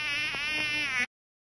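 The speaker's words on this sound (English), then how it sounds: "Mosquito." A mosquito buzzes in one steady, close, high-pitched whine that lasts about a second and cuts off abruptly, with nothing else audible.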